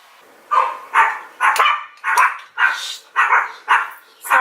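A pet dog barking indoors in a home, eight sharp, evenly spaced barks close to the microphone, each loud and clipped, with short quiet gaps between them and no talking.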